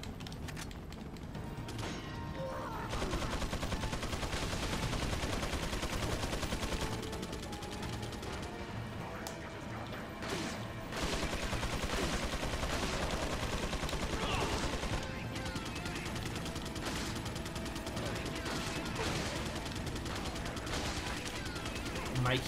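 Sustained gunfire from Mike's helicopter in Resident Evil 4, dense continuous bursts layered with crashes and game effects, loud and busy throughout with no speech.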